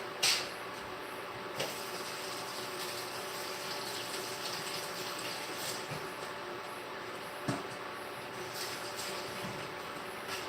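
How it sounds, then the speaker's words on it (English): Steady broadband rush of water from a kitchen tap during handwashing, running continuously and fairly close, with a couple of faint knocks and clicks over it and no speech. "I'm going to actually wash my hands."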